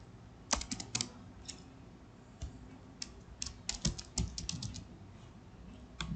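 Keystrokes on a computer keyboard come in quick uneven bursts with short pauses between them, as someone types words into a Word document. The clicks are close and crisp and sound alone, with no one talking.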